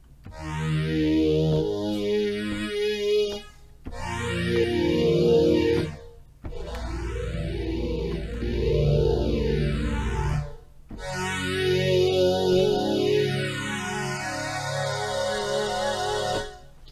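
Bright, buzzy lead lines from the FXpansion DCAM Synth Squad software synthesizer, with sweeping, gliding pitches and layered chords, played in four phrases separated by short pauses.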